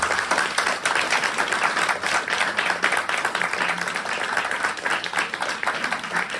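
Concert audience applause fills the room, dense steady clapping from many people lasting several seconds without a break, loud and close.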